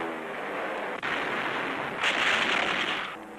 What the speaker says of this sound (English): the fleet throws up a barrage of anti-aircraft fire